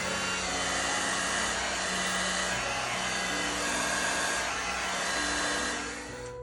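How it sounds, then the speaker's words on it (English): A heat gun blows a steady, loud whoosh of hot air across a fresh pour of resin, with a continuous motor whine that holds level for several seconds, then eases off near the end. "I am going to take my heat gun and give it a blast or two."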